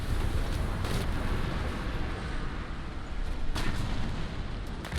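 Missile launch from a BMP-3 infantry fighting vehicle in War Thunder, a loud sustained roaring blast of engine and firing noise filling the whole stretch, with sharper bursts near the start and around the middle, no voices.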